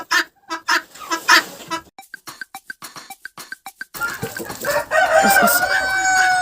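Rapid, repeated clucking calls from guinea fowl in short bursts, then a white-breasted rooster crows loudly nearby over continuing bird chatter.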